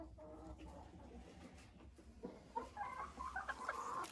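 A Loman Sandy hen sitting in a nest makes soft, faint clucking and low murmuring calls, with a few brighter clucks toward the end over a quiet rustling background.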